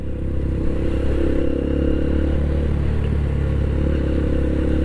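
A jeep engine rumbles steadily at low speed as it descends slowly from Mount Bromo onto the sand sea, with loud wind-like low noise throughout and no voices.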